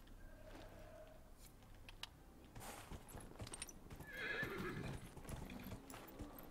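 A horse in the video game Dragon Age: Inquisition gallops with rhythmic clip-clopping hooves and lets out a clear neigh midway, all fairly quiet amid faint game effects.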